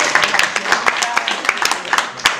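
An audience claps after a poem reading at a student event, a short burst of scattered hand claps in an uneven rhythm, fairly close and loud.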